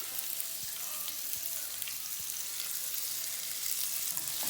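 Onions sautéing in a pan with very little oil for a pasta dish with crème fraîche, a steady close sizzle with faint stirring clicks and no talking.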